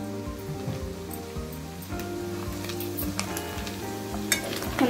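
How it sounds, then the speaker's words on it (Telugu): Chicken fry coated in chilli powder sizzles steadily on a low flame for the whole stretch, a continuous close crackle with a faint tonal hum running beneath it and no talking. "మనం కారం వేసిన ఒక 5 నిమిషాల వరకు కదిలిపోకుండా చక్క సిమ్ లో పెట్టుకొని ఫ్రై చేసుకుంటే ఫ్రై రెడీ అయిపోయింది।"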